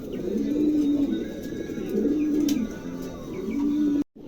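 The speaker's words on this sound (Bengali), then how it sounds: "চমৎকার একটা কবুতর" A pigeon coos nearby in three rolling, throaty phrases against soft background chirps, ending with a sudden cutoff.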